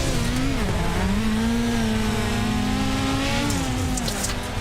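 Onboard a sprint car in the iRacing Chili Bowl, the engine screams at high revs, its pitch dipping and climbing as the throttle eases and opens, loud and constant with no talk.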